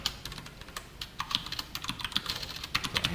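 Steady typing on a computer keyboard, a rapid irregular patter of close, crisp key clicks continuing throughout with no voices.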